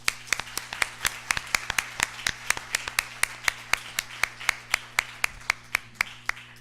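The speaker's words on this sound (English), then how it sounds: "One more round of applause for Regina." Steady, evenly paced claps ring out close and fairly loud at an international legal hackers summit, a tight repeating rhythm over a constant low room hum, with no talk.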